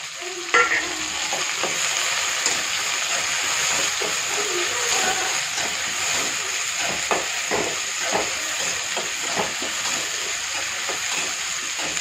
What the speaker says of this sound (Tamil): பூண்டு பல் போட்டுக்கோங்க ஒரு 20 பல்